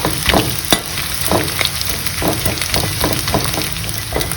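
Small fish pan-roasting in oil until crisp, a steady close sizzle and crackle with irregular stirring scrapes and knocks throughout.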